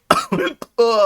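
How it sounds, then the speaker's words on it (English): A few quick, harsh coughs in close succession, followed by a short voiced sound, all close and loud. "Coughing and hiccups."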